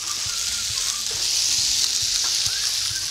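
Carrots, peppers, garlic and ginger stir-frying in a pan, a steady bright sizzle with scattered clicks and scrapes of stirring, close and alone.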